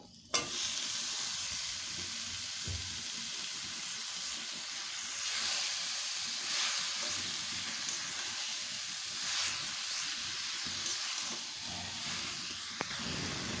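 Chopped bottle gourd hits a pan with a little hot oil, setting off a loud, steady hissing sizzle that holds evenly throughout with faint stirring scrapes.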